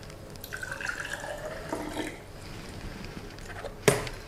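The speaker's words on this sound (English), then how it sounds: "Add water," Water runs and trickles softly into a glass for a couple of seconds, followed later by a single sharp clink.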